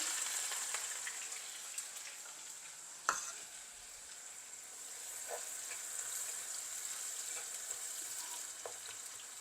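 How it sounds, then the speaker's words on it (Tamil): Sliced large onion frying in oil in a pan while ladies finger sambol is being made, with a steady, fairly soft sizzle and crackle that runs unbroken and alone, marked by one brief clatter near the middle. "ஒரு பெரிய வெங்காயம் ஒன்று வெட்டிடுறேன் அதையும் பொறிக்கிறோம்"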